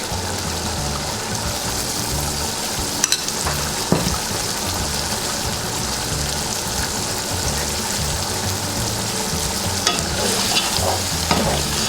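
Garlic, ginger and turmeric fry in a pan for akhni pulao while being stirred, giving a loud, continuous close-up sizzle with occasional scrapes and taps of the spoon and no voices.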